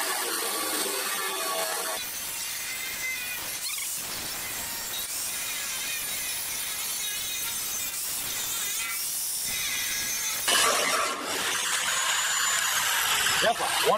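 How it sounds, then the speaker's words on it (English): An angle grinder cuts into a homemade steel lawn roller, giving a loud, continuous harsh whine with a metallic scraping edge that shifts in pitch and strength as the disc bites. "we're going to cut us an opening in here right now with the side grinder"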